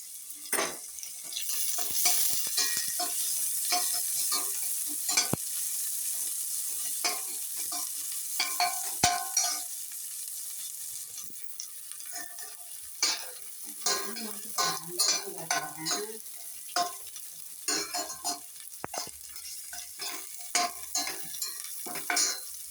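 Curry leaves and dried red chilies fry in oil in a pan as a tempering for coconut rice, with a steady close sizzle and repeated rhythmic scraping strokes of a spoon stirring the pan.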